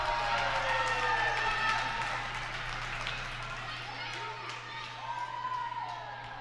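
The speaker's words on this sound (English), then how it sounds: "Listen to the crowd." Crowd at an SFCW Crossroads independent wrestling show cheering and roaring in a broad, sustained wash of noise that slowly fades a little, with an announcer's voice over it.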